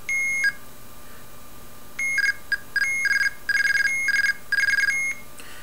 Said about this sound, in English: We've got the seizure, followed by the guard tone, followed by the ANI sequence.